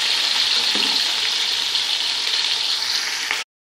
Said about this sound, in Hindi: अब हम इसी ऑयल में प्याज डाल लेंगे।